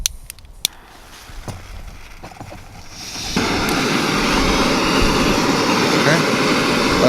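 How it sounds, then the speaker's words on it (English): A GSI high-output canister stove sits atop an ATV outdoors, clicking as it lights after a few handling knocks, then roaring into a steady, close, rushing burner hiss that holds evenly to the end. "it's not all that loud for, a high output stove"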